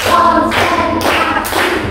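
A class claps together in a counted rhythm, sharp close bursts of massed hand claps landing roughly every half second in a tight beat.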